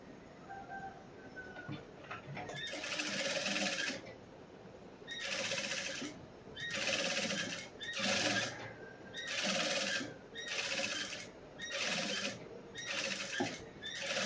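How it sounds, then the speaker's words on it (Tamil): A sewing machine runs a seam along the back edge of a blouse where lace will be attached, stitching in a series of short, even bursts separated by brief pauses, close and fairly loud. "அதனால் ஓரமாக ஒரு தையல் போடுவோம்."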